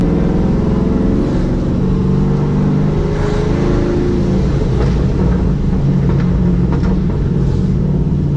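A 2015 Chevy SS Camaro engine rumbles steadily and loud while the car cruises slowly through a neighborhood, with a deep continuous low drone and slight swells in revs.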